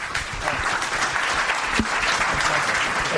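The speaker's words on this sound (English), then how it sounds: "Give them a round of applause." An audience applauds at the close of a conversation about restaurant robotics, a dense, steady clapping heard alone throughout.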